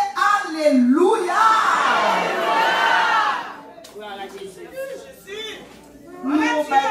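A large crowd shouts "Hallelujah" in a loud, sustained collective cry at a church dance gathering; it swells and then fades into scattered voices and chatter before rising again at the end.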